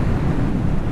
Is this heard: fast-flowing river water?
yes